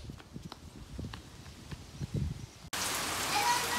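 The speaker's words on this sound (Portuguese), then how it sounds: "Gente, olha a chuva, como está grossa." Heavy rain pours on a rural farm, first as faint background behind light, uneven knocking and step-like thumps, then as a sudden, loud, dense, steady hiss.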